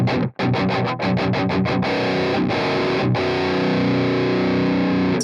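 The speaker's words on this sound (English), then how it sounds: "Sounds better with the bright switch. Yeah, it's got to be a JCM." Distorted electric guitar through a JCM 800-style amp plugin with the bright switch on, a run of fast chugging palm-muted picks followed by sustained ringing chords, loud and close with no talking.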